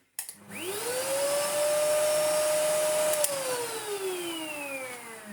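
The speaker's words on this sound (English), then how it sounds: "Let's turn the Classic on. Then we'll turn the newer one on." Pre-EU Sebo Felix Classic upright vacuum cleaner switching on, its motor whine rising quickly to a loud steady drone near the microphone, then the pitch slowly sagging toward the end, with no talk over it.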